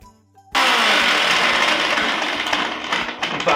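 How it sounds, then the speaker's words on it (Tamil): An electric mixer grinder starts abruptly and runs loud and steady, whirring and rattling as it grinds a thick paste to replace a grinding stone, continuing without pause to the end. "அம்மி இல்லாதனால மிக்சியில் அடிக்கிறோம்"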